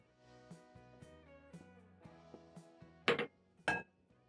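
A small pan is picked up and handled on a stove, giving soft metallic clinks and taps in an irregular series, ending in two louder, sharper clanks near the close.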